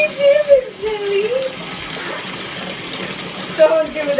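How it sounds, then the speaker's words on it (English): Water runs steadily from a faucet as someone drinks from it, making a fairly loud, even rushing hiss, with brief bits of voice at the start and end. "Are you drinking from the faucet?"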